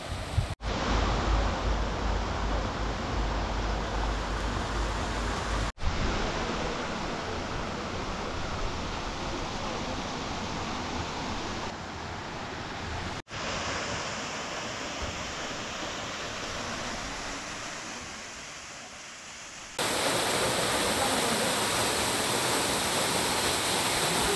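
Waterfall at Keonjhar in Odisha, with heavy water pouring steadily in a dense, continuous roar heard close by. The rush carries on unbroken throughout, with a few brief cuts, and no one speaks.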